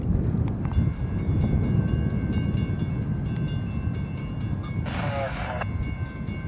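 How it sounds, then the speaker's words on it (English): An intermodal freight train rumbles past steadily with heavy low roaring and wheel noise, while a brief horn-like tone sounds partway through. "Here comes our first train."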